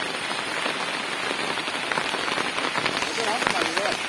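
Heavy evening rain pours down in a village near Devgad, Sindhudurg: a loud, steady, dense hiss of drops beating on surfaces throughout, with a faint voice briefly near the end.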